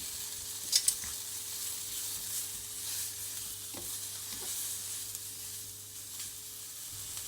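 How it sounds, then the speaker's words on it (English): Prawns and minced garlic sizzle steadily in a pan, a continuous hiss broken by a couple of sharp spatula clinks early on and occasional soft stirring scrapes, with no talking. "add the garlic mince and cook until the beautiful garlic aroma is out and the prawns are cooked through"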